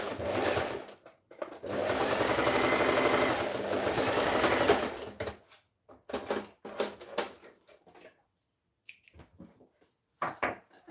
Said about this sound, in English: I'm going to stitch this up, fold it over, and stitch